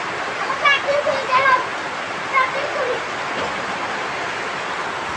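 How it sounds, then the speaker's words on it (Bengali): Rain pours down steadily around a village veranda, making a dense, even rushing hiss from start to finish, while a voice talks over it in the first half. "নিচে দেখুন কি সুন্দর করে পানি পড়তেছে"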